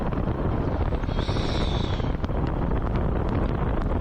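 Steady, loud wind rush with a low engine rumble underneath, continuous throughout with a brief whistling tone partway through.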